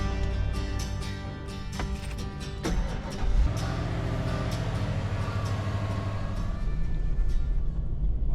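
A 1996 Ford Bronco on the move: low engine drone and road rumble inside the cab, with rattling clicks early on and a deeper surge in the engine partway through as it pulls along.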